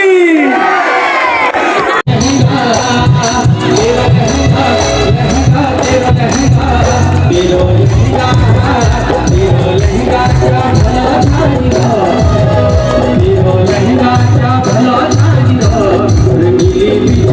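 A large crowd at an Uttarayani temple festival with a singer roars and cheers loudly and continuously for the whole stretch, dense and close, after a brief quieter opening.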